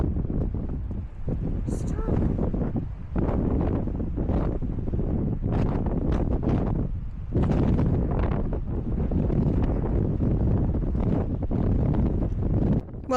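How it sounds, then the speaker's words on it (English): Strong gusty wind on the Isle of Skye buffets the microphone in heavy, uneven roaring bursts, loud and continuous, with people talking faintly underneath. "It's still windy."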